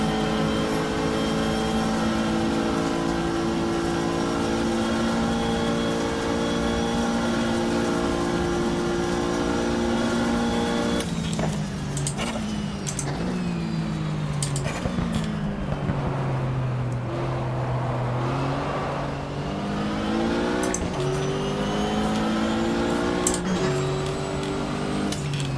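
Engine drone of a 1978 Porsche race car in the racing game GTR2, set at Daytona, holds a loud, steady tone and then rises and falls through gear changes and speed shifts, with other engines audible.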